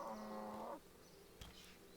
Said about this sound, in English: we're just going to quickly kill some cows here